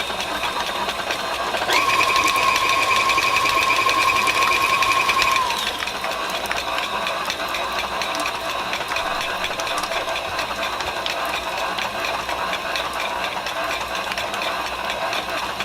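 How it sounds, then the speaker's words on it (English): A KitchenAid stand mixer runs on low speed creaming cheesecake filling, a steady mechanical whir with a brighter tonal whine for a few seconds near the start, then a continuous motor hum throughout. "Now you can use a hand mixer, or in my case, I'm going to use my KitchenAid."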